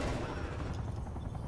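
Dense, continuous gunfire from a Call of Duty match, overlapping shots rattling steadily without pause, loud and close, with a faint voice in the background.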